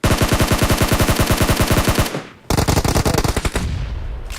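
Sustained automatic gunfire in the battle royale game PUBG Mobile, loud rapid bursts of shots, a brief pause, then another fast burst trailing into echo.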